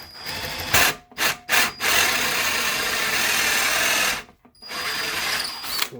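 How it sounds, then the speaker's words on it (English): A power drill bores through the center hole of an arcade control panel for a USB spinner install, loud whirring in short bursts, then a long steady cut that stops abruptly before spinning up again. "we're just going to drill right through our center hole"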